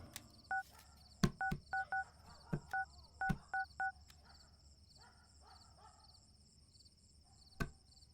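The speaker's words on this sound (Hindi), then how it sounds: "कुमार को फोन करके आने के लिए बोल" A phone keypad dialing a number: a quick run of short two-tone beeps, irregularly spaced, with a few sharp knocks and a faint steady hum, in an action film.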